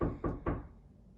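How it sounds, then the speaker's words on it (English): Two quick knocks on a hospital room door, close and distinct, followed by a fading tail with no talking. "I'm gonna go ahead and I'm gonna knock and enter the room."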